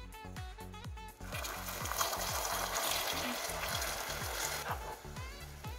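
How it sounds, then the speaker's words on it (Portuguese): Half a cup of water poured into hot caramel in a pan while making pudding, giving a loud steady hiss and sizzle over sharp rhythmic clatters, close and continuous for several seconds. "vou colocar meia xícara de água com muito cuidado, porque esse aqui pode queimar"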